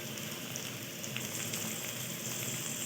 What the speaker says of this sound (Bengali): পেঁয়াজটা একটু ভাজা হয়ে গেছে, এবার এর মধ্যে আমি দিয়ে দেবো কেটে রাখা গাজর